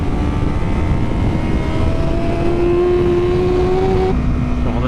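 A motorcycle with a split throttle body setup roars steadily in a MotoGP racing video game, a loud continuous engine drone with a slowly rising pitch that drops off abruptly near the end, with no talking.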